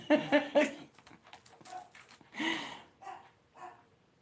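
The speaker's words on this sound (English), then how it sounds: "I'm not sure what my dog's barking at" Three quick dog barks sound up front, followed by faint clicking and a few softer sounds at a moderate distance.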